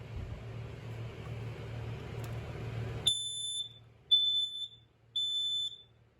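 A Kidde smoke alarm sounds three loud, shrill beeps in a steady rhythm, following a few seconds of low rumbling background noise.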